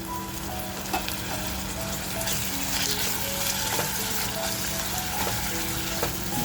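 Mutton fat frying with reddish-browned onions in a pan for a mutton liver masala, a dense continuous sizzle with occasional stirring clicks, close and fairly loud throughout, no voices.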